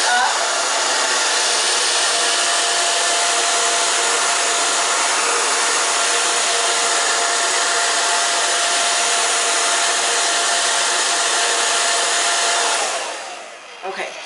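A hair dryer blows continuously and loudly on a boy's hair, a steady broadband roar that runs almost the whole time and then drops off near the end.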